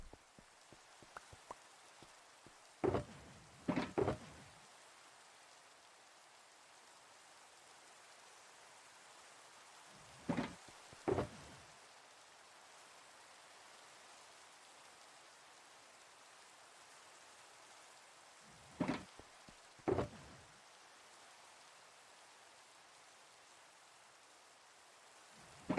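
Steady soft rain falls in a video game set around a citadel's north roads, a faint even hiss running throughout, broken by a few brief clusters of sharper clattering sounds.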